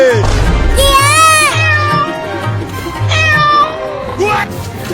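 A cartoon cat lets out a few drawn-out, pitch-sliding meows over lively background music, mixed with an animated voice.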